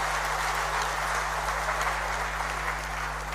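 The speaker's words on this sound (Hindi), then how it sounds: "जोरदार तालियां बजा के स्वागत और अभिनंदन" A large audience at a Rajasthan public event claps steadily to welcome the chief minister, a dense wash of applause over a low hum, continuous and fairly loud throughout.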